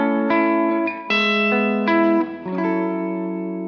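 Les Paul electric guitar on the bridge pickup through a Kemper AC30 profile with light reverb, playing a few sustained, ringing chords in a clean-to-crunchy tone, close and fairly loud, alone with no talk.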